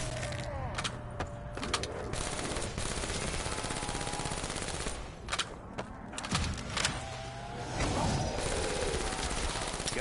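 Bursts of automatic gunfire in a zombie video game, sustained rattling volleys with brief gaps, loud and close, with little talk over it.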